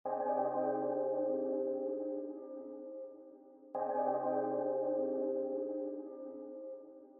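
Two identical sustained synth stabs used as a trap beat accent, each a bright, bell-like chord that rings and slowly fades, the second starting just as the first dies away.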